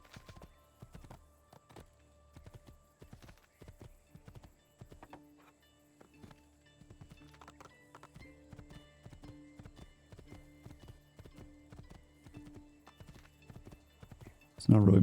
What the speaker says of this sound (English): There's a horse right here that we can grab